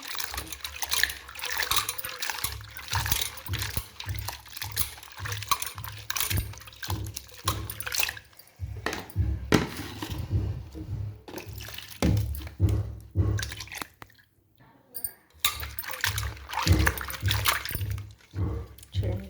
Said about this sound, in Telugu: చక్కగా కడిగేసిన మళ్ళీ ఇంకొక వాటర్లో వేసుకుంటాం.